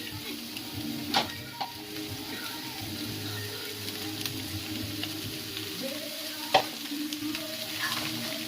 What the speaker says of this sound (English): Now I'm going to prepare the veggie, adding a little bit of olive oil.